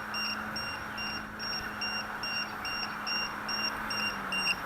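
A drone's low-voltage warning beeps in a steady, regular series of short high tones, faint but persistent over a constant background hum, with no talking.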